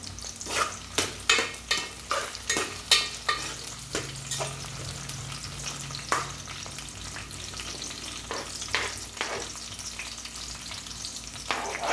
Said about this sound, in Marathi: मिरच्या आणि कांदे परतून घेऊया